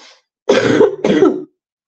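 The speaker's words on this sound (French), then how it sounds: "Je vais tousser, attention." Two harsh coughs with a throat-clearing rasp, close and loud, each lasting about half a second, separated by a brief pause.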